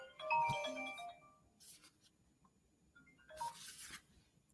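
A phone ringing for an incoming call, a short melodic ringtone burst followed by quieter rustling and another brief burst, faint and close with no speech.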